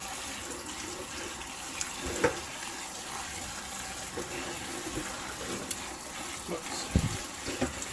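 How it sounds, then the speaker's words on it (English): Chokecherries are rinsed under a running tap, giving a steady stream of water with occasional splashes and clunks as the berries are handled. "This will help rinse any of the yuck of the not so good berries too."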